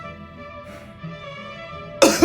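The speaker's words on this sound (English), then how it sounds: "I'm coughing like you asked me to do." One sharp, loud cough bursts out at the end after near silence with a faint background hum.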